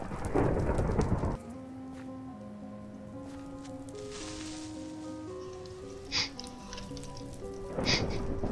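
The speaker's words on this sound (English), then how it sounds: "Well, that lightning just keeps going." Minecraft thunderstorm at night: a loud thunder crash with heavy rain opens, then a softer rumbling stretch and another thunder burst before rain swells again near the end.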